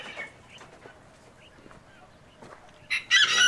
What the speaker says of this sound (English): Wyandotte rooster.